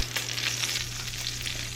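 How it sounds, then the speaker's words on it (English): Bacon sizzles and crackles in a skillet, a steady close frying hiss with small pops throughout, with no talking. "Sounds like it's sizzle time."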